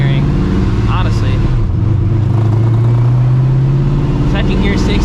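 A 600hp Procharged New Edge Mustang GT engine pulls hard, its loud low drone rising steadily in pitch through the run, with a voice talking over it.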